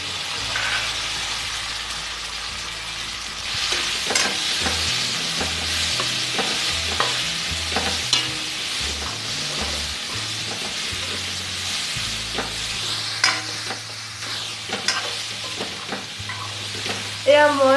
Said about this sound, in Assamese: এয়া মই সেই অলপ সময় ভাজি লওঁ